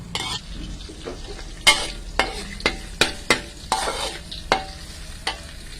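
A spoon stirs chili simmering with fermented soybean paste in a pan, making a series of sharp scraping strokes at an irregular pace over a low bubbling sizzle, close and fairly loud, with no talking.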